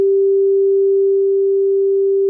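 A steady pure sine test tone held at one constant pitch, loud and unwavering for the whole stretch, panned to the left with nothing else around it.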